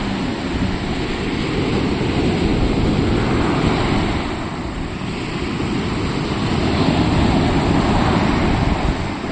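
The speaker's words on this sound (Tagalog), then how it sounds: "Sobrang lakas ng alon." Strong sea surf roars continuously, with wind buffeting the microphone in a steady, dense rush that never lets up.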